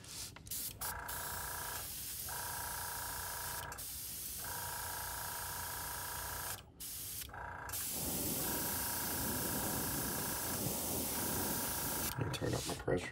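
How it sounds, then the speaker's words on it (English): An airbrush sprays Createx transparent yellow paint onto a fishing lure: a steady, close hiss of air and paint that stops briefly several times and gets louder and rougher in the second half. "Okay, got the Createx transparent yellow in the brush. Let's spray this on."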